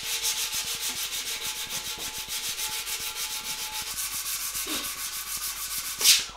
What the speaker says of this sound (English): I will do some more tube sanding